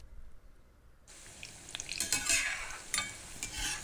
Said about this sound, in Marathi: स्लो गॅसवरती आपल्याला हे छान असे फ्राय करून घ्यायचे आहेत